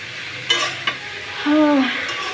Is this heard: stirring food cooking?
yes